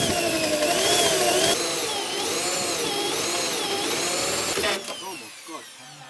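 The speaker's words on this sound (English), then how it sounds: "I've got to a smaller drill bit now, and that's so I'm actually going to go through to the metal" A small bit drilling pilot holes through the metal body of a Ford Fiesta: a steady, high whining drill motor runs close and loud for several seconds, then winds down.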